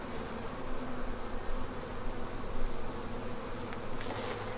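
Honey bees buzz steadily around an open beehive during a springtime hive inspection, a dense, continuous drone close to the listener with slight swells in loudness.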